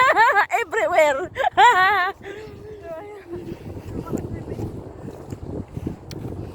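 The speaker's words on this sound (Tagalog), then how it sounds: "Hangin." Wind gusts buffet the microphone outdoors on a group outing, making a continuous low, rough rumble that fills the last few seconds. A voice talks or sings loudly just before it starts.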